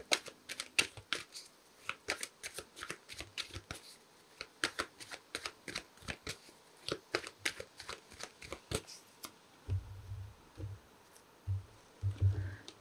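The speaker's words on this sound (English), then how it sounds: "let's pull some cards for the outcome of this connection as it stands at the moment" Tarot cards are shuffled by hand in a long run of crisp, rapid riffling flicks close by, the rhythm uneven and steady for most of the stretch, then giving way to a few soft low thumps and handling sounds near the end.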